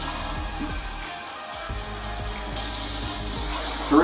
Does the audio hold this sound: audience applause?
no